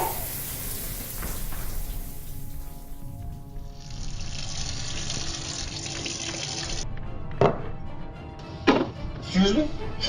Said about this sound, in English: You want a hot shower? Here's your hot shower!